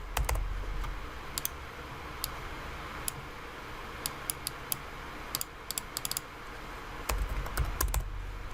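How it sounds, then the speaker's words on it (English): Typing on a computer keyboard, bursts of quick close key clicks with scattered single taps and brief pauses over a quiet background. "So I'm going to double click that and type in the levels."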